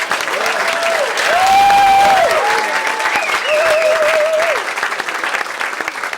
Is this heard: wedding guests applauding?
yes